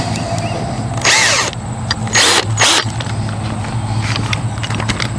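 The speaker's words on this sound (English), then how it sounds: "my 3/8 inch drill will drill." 3/8 inch electric drill turning a 1/2-inch bit, several short whining bursts that spin up and stop, separated by brief gaps, close and loud, no talk.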